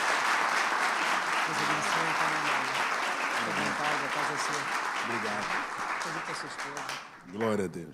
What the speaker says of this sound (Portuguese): A igreja pode dar um aplauso a Jesus pela vida do pastor Leandro?